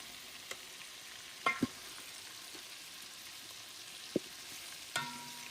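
Chicken pieces frying in hot oil with potatoes, a soft steady sizzle beneath scattered stirring clacks and a few louder utensil knocks, heard close with no talk.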